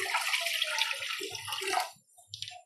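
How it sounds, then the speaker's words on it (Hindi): Water poured from a vessel into a kadhai on a lit stove for boiling chowmein, a close, splashing stream lasting about two seconds, then a few small drips and clinks. "पहले इसमें पानी डालेंगे,"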